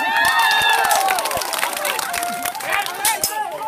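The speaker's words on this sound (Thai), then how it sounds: "สะใจเสียงปรบมือครับ" A crowd claps, cheers and shouts at a Bang Rachan battle reenactment held at the retro market of Ban Rachan, Sing Buri. Sharp claps and children's shouts rise over busy crowd noise.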